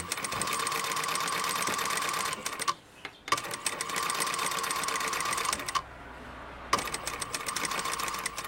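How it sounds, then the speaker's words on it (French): Sewing machine stitching a 3 mm ridge seam along butted edges of a cushion cover, running in steady rapid bursts with two brief pauses, close and loud, no talking. "je viens mettre bien bord à bord et je fais une couture nervure"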